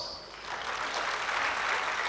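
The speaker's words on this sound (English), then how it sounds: "we request all of you to give yourself a big round of applause" An audience at an awards function for Good Samaritans breaks into applause, a dense wash of clapping that swells and holds steady.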